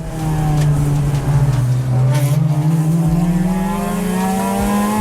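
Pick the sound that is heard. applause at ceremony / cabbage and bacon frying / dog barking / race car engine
race car engine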